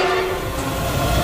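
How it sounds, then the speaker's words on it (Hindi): A train horn holds a steady, sustained note over low rail rumble, used as a sound effect in a spooky horror story set at a haunted railway station at night. "काफी दूर से ट्रेन के हॉर्न की आवाज हार्दिक के कानों को झकझोर रही थी"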